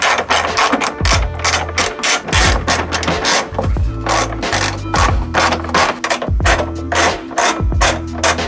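A 12 mm socket works the nuts on the fuel tank skid plate of a 2016-or-later third-generation Toyota Tacoma, giving loud repeated ratcheting clicks in steady bursts throughout, close up, with no talk.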